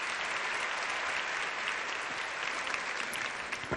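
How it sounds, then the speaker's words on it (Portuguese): A church women's event audience breaks into sustained, even applause, a dense wash of clapping that holds at steady volume throughout with no voices on top. "Recebam com uma salva de palmas Morgana Linhares."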